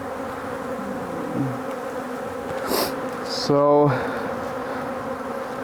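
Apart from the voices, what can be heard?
honeybees buzzing around an open beehive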